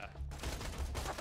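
Gunfire from the video game Borderlands 2 crackles in a dense burst of shots beneath talking players.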